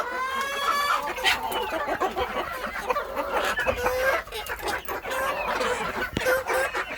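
Chickens cluck and squawk continuously nearby, several birds overlapping in a busy, steady chatter with no talking.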